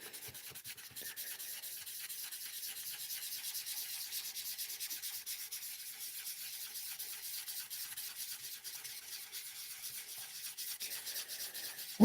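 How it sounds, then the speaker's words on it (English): Steady sanding strokes rub across the surface of a life-sized Magikarp model, a continuous close scratching hiss that holds without pause for the whole stretch, with no talking. "I've been trying different methods for sanding as well"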